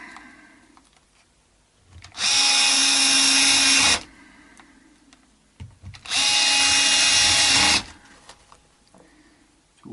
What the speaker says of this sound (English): can hear the torque kick in when they're in far enough, and you don't have to over tighten them